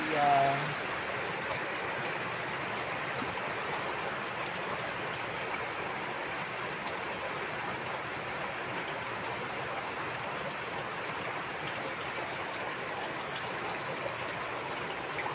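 Rain falls steadily outdoors as a constant, even hiss that stays unchanged and fairly close throughout, with no other sounds breaking through.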